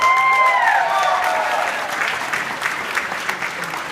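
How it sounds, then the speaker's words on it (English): Wedding guests clap for the bridal party, a full, steady round of applause with a few whoops and voices mixed in near the start. "Let's give them a big round of applause."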